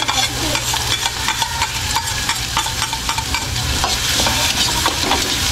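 Garlic, onion and ginger sizzle steadily in a hot pan, and a spoon scrapes and stirs them in repeated clicks. The frying stays close and continuous with no voices.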